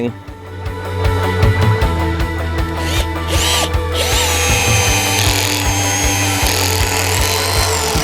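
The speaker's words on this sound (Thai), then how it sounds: "เจาะอีกหน่อยนะครับ" A power drill bores into hard three-year-old Huang Hua Li heartwood, its motor whining steadily and loudly with rhythmic grinding pulses as the bit chews through the dense wood, close and continuous throughout.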